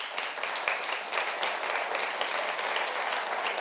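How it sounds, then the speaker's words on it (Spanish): Church congregation applauding to honour the Lord during a sermon: a steady, dense wash of many hands clapping, even and sustained without breaks, filling the room with no voices on top. "Démosle un aplauso al Señor mejor."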